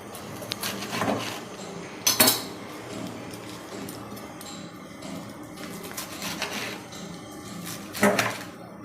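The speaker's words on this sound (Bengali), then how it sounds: "আমি সব শাকগুলো কেটে নিচ্ছি" A knife chops bathua leafy greens for dal, giving scattered sharp knocks and clinks against the board and utensils amid quieter rustling and scraping, close by and without speech.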